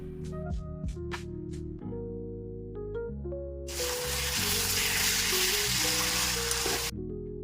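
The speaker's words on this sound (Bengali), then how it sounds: "এরপর দুটো পেঁয়াজ কুচি দিয়ে ভেজে মাংসটা দিয়ে কষিয়ে নেব।" Chopped onions and chicken frying in a pan, with a loud steady sizzle that rises for a few seconds in the middle under continuous background music.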